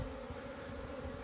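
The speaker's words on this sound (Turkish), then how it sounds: "Arı şu öbeğin içerisinde arkadaşlar." A swarm cluster of honey bees gives a dense, continuous buzzing drone. It is faint and steady, with no voices.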